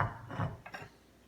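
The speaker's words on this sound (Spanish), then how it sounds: "Ahora en un molcajete voy a poner mis 3 ajos," Three garlic cloves dropped into a stone molcajete while making a pork stew in red chile sauce, a couple of quick close taps and clicks against the hard bowl over a brief rustle.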